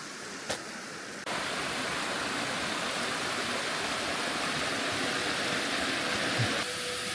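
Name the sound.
large waterfall near Tōgō onsen, Gifu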